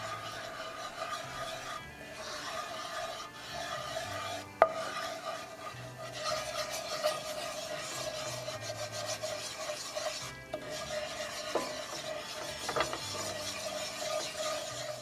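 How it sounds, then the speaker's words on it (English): A spoon steadily rasps and scrapes as flour is stirred into hot oil in a pan over medium heat, continuous close scraping strokes with brief pauses, no talk. "All you need is about 15-20 seconds stirring that flour into that oil"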